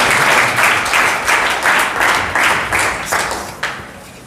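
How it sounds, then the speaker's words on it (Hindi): Audience clapping to welcome a pastor at a youth seminar, loud and close, beating in a clear rhythmic unison pattern of roughly two claps per second. "ताली बजाके हम उनका स्वागत करें।"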